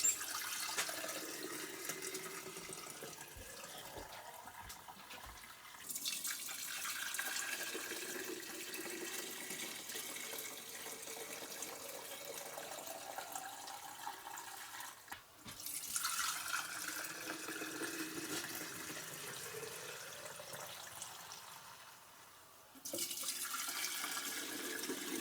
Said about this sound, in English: I'm also going to strain it as I pour it into the jars